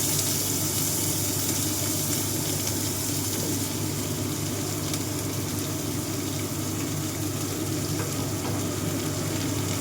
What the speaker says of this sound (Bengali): এবার আমি কুচনো পেঁয়াজগুলো আমি এর মধ্যে দিয়ে দিলাম